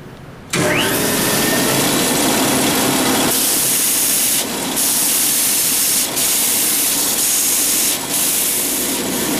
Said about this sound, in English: make sure you have the grain going up and down when you're sanding on the belt sander